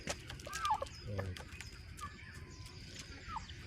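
Rhode Island Red chickens cluck and call softly in a farm barnyard, a few short squawks over quiet background noise and scattered other birds.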